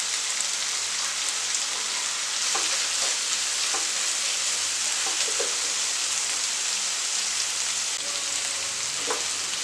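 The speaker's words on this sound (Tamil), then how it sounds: "இப்போ நல்லா வந்து பாருங்க நல்லா ஃப்ரை ஆகிடுச்சு." A chicken and mushroom stir fry sizzles steadily in a pan, a constant close crackle and hiss with a few brief stirring knocks.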